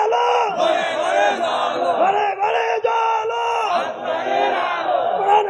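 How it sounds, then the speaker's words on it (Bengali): A large crowd shouts the takbir chant in unison, loud massed voices rising and falling in repeated waves at a religious gathering, sustained without pause. "তাকবীরের ধ্বনি দিয়ে যুবক তাকবীর দে।"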